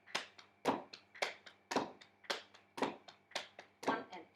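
Hands drumming a basic rock beat on the lap at a brisk tempo, a steady run of sharp slaps and taps with accented hits, close and alone.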